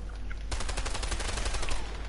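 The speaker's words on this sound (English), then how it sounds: "Try shooting at those empty houses." MP5 submachine gun firing at empty houses in the video game A Way Out, with a rapid, loud, sustained burst of automatic shots that starts abruptly after a short quiet moment and continues to the end.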